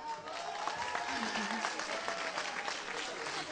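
An audience applauds at a political candidate list presentation, a steady roll of many hands clapping for a few seconds in a hall, with speech faintly mixed in.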